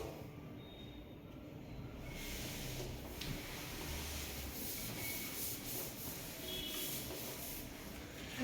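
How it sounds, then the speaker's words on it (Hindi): A diagram being erased from a classroom board, a continuous scratchy rubbing that scrubs back and forth, quiet and close, without speech. "ड्रॉबैक के लिए मैं थोड़ा सा बोर्ड आपका रब करना चाहूंगा, वैसे भी डायग्राम रब कर रहा हूं"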